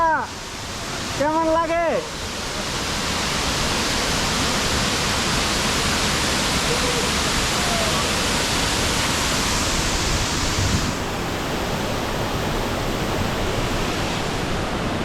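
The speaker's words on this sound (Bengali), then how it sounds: "আমরা একদম ঝর্ণার নিচে চলে আসছি কিছু পানির ছিটা এসে পড়তেছে গায়ে" A waterfall in Wales roars as a dense, steady rush of falling water heard from right beneath it, loud and unbroken throughout, with a brief spoken voice at the start.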